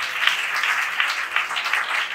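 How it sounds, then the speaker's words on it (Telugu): A church congregation at a Pentecostal Sunday worship service claps together in steady, dense applause, fairly close and loud, with no speech over it. "నమ్మిన వారందరూ చప్పట్లు కొట్టి"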